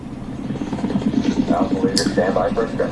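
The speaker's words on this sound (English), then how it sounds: "Choppers so low to the ground?" A helicopter flies low over the ground in a scene from The Walking Dead: World Beyond, its rotor thumping in a fast, steady pulse that rises and falls slightly over a short stretch.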